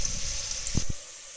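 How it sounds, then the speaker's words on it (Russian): Vegetables frying and stewing in vegetable oil in a pan for a chicken roast dish, giving a steady soft hiss that runs through the clip, with a couple of brief low knocks near the middle. "Вот так вот жарятся, тушатся наши овощи на растительном масле."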